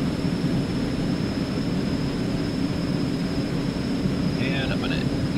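Eclipse 550 jet in the X-Plane 11 simulator roaring steadily during its takeoff run, a dense, loud, continuous engine rumble with a faint high whine, and someone talking over it near the end.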